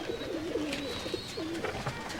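Soft, repeated coos of Rajshahi Giribaz flying pigeons rise and fall in a low rolling rhythm, heard close against a steady background hiss with no talking.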